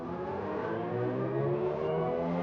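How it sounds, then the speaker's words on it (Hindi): Artificial go-kart mode sound from a Mini Countryman Electric SUV accelerating, a steady, loud synthetic engine-like drone with layered tones that rise slightly, heard from inside the car with no talking. "गो कार्ट एक मोड है, इसमें जैसे जाते हो ये देखो गो कार्ट जैसा साउंड भी मिला"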